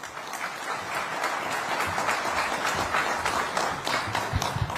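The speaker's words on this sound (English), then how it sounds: "Huge round of applause once more" Sustained audience applause fills a hall after a minister's speech at the Maharashtra Maritime Summit 2025 in Mumbai, a dense, steady clatter of many hands continuing evenly throughout with no voices over it.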